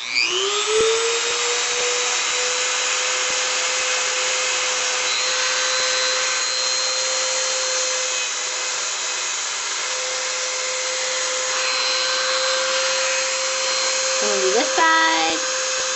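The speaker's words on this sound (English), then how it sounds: "you don't hear drilling for hours and hours" A high, whining power drill sands the metal edges of a gold anchor necklace, running steadily for a long stretch, its pitch shifting and stuttering briefly near the end.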